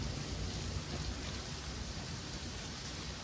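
Steady, fairly quiet rain hissing continuously in The Flame in the Flood, with a faint low rumble beneath and no voices.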